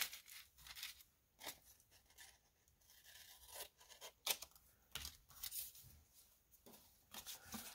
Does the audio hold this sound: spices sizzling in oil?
no